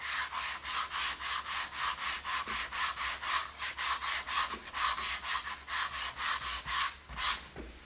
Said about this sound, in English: let's sand through the wet